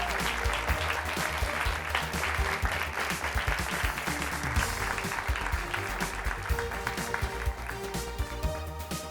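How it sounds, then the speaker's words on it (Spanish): An audience at a televised debate program gives sustained applause for six competing debate teams, with dense, steady clapping that stays even throughout and has faint crowd murmur beneath. "quiero pedir un fuerte aplauso para estos 6 equipos que se han enfrentado esta noche"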